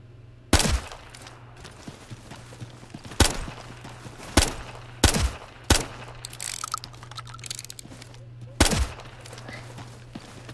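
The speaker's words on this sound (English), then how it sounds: "Let's try out the MTS 255. It's a single shot." MTS 255 shotgun in Ghost Recon: Future Soldier multiplayer, several loud, sharp single blasts spaced a second or more apart, separated by clicking mechanical handling noises over a low steady hum.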